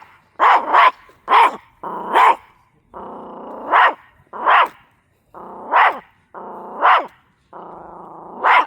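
Several dogs barking in short, loud bursts with growly, drawn-out snarls between them, close by and with no talk.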